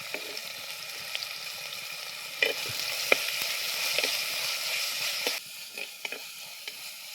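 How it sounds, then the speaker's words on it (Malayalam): Sliced large onions hit hot oil in a pan, giving a steady, close sizzle with a few sharp crackles and light stirring clicks scattered throughout; no one speaks. "അടുത്ത നമ്മുടെ ഉള്ളി ഇട്ട് കൊടുക്കുക."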